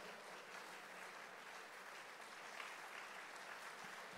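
Steady crowd applause at a Latvian prayer gathering, many hands clapping continuously and evenly for the whole stretch, moderately distant and filling the room with no voices on top.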